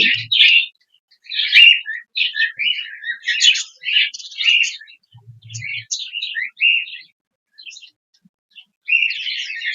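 Budgerigar chicks chirp and chatter in quick, high twittering bursts separated by short pauses, close and fairly loud, with no talking.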